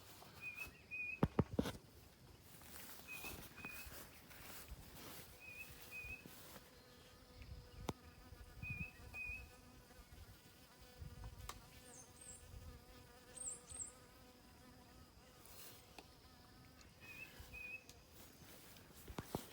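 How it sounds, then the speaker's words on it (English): A honeybee drawn to heated comb near swarm boxes outdoors gives a faint, steady buzz that hums along quietly throughout, with a few brief high chirps. "There's a honeybee smelling."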